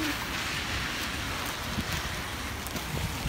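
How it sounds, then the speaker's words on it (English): Steady rain patters and hisses across the whole moment, with light gusts of wind buffeting the microphone. "it's raining for the first time in 2 months"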